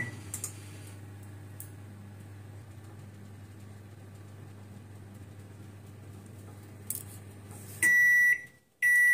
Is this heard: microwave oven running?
yes